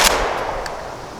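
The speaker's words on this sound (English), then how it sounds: "Tactically shooting a tactical shotgun." A single loud, close blast from a tactical shotgun, with a sharp crack at the start that rings out and fades over about a second.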